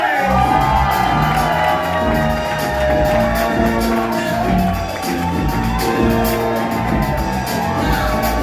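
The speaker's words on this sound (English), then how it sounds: "Keep that applause going" Audience at a stand-up comedy show cheering, whooping and shouting as a crowd, loud and sustained throughout with steady roaring energy.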